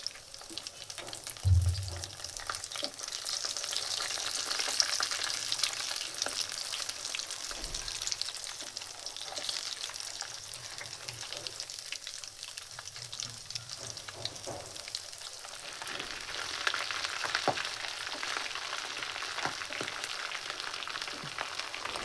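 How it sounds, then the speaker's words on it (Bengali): Double-coated egg chops deep fry in hot oil, giving a steady, even sizzle with bubbling crackle throughout and a couple of low knocks from the pan, with no talking. "ডুবো তেলে ভেজে নিতে হবে"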